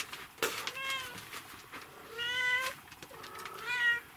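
A cat meows three times in a row, fairly close and clear, each call rising and falling, in a house with dogs and cats during the early morning.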